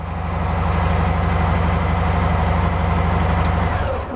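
A Harley-Davidson Softail engine idles steadily at close range, a loud, even low rumble with a regular throbbing pulse that holds for about four seconds before dropping off at the very end.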